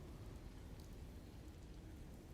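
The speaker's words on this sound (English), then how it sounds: "And the rain just won't give up today." Steady rain falls in the settlement-building video game Murkwater, a soft, even hiss that carries on throughout, faint and without any voices.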